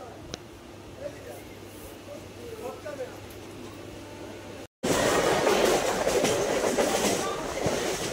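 A local train leaving Belur station toward Bali, first a quiet carriage interior with soft rumbling, then after a brief cut a loud, steady roar of wheels and rushing wind close by.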